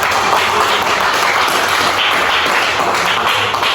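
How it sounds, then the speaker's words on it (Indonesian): Applause from a high school classroom of students, a dense, loud, continuous clatter of many hands clapping together for several seconds. "Ya, berikan tepuk tangan."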